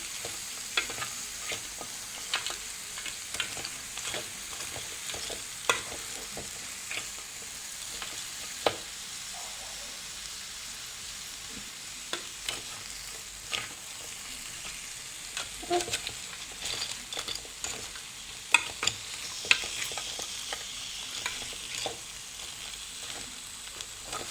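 Crab being stirred and fried with masala in a pan, a steady close sizzle with repeated scraping and stirring knocks throughout, no voices.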